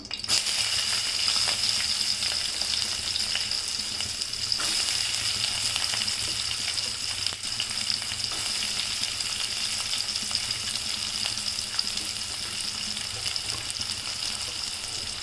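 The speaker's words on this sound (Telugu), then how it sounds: "ఆ ఆవాలు ఇప్పుడు సో వేగాయి కదండి సో ఆనియన్స్ వేద్దాం" Chopped onions frying in hot oil with mustard seeds for an egg bhurji, giving a steady, dense sizzle and crackle that runs unbroken and fairly loud, with faint stirring and no voices.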